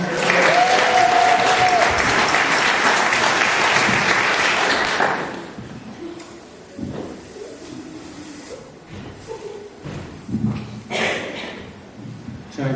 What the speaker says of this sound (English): Come on, big round of applause.